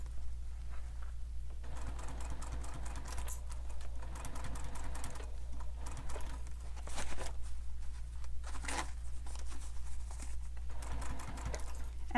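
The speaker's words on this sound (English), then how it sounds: "we're going to sew this with the full seam allowance" A sewing machine stitches a seam on a sling pack at full seam allowance, running slowly with a steady low hum and a rapid needle patter that varies slightly in pace throughout.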